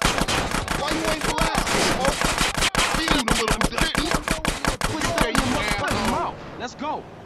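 Rapid gunfire crackles in the video game GTA San Andreas during a drive-by, dense bursts of shots over music and game dialogue, loud and continuous before cutting off near the end.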